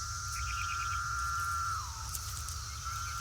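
Cicadas chorusing in a forest: a steady, shrill buzzing drone that holds at a constant pitch, briefly dips, then returns, with faint chirps above and a low background hum.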